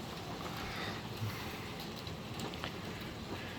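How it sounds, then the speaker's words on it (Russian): Steady rain falling outside, heard from an apartment balcony during wind and rain, a soft continuous hiss with faint scattered drops and no voices. "Вот дождь идет."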